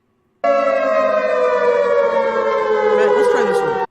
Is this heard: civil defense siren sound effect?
yes